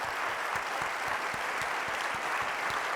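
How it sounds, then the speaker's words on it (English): Keynote audience at Current 2023 applauding open source Kafka and Flink committers, a steady wash of many hands clapping at an even, moderate level throughout. "I'd like to ask everybody to join me in a round of applause for all of the committers"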